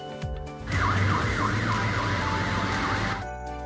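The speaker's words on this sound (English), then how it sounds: "This is a fire engine." A fire engine siren wails loudly in a repeating rise-and-fall pattern for about three seconds over a low vehicle rumble, then stops abruptly.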